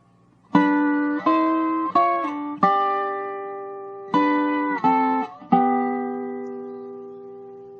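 A resonator dobro plays a walk-up into the opening notes of a song: two phrases of a few sharply plucked, ringing notes each, bright and close, the last note sustaining as it fades, no voices.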